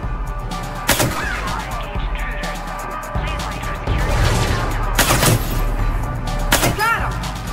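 Heavy gunshots in the video game Mass Effect 3 Legendary Edition, a few loud booming blasts spaced seconds apart over rumbling combat ambience.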